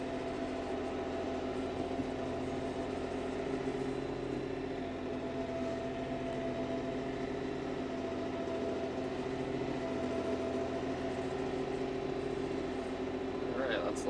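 A tractor churns through deep mud on a woodlot trail while collecting maple sap, its engine a steady, loud drone with low rumbling layers that persists unbroken throughout.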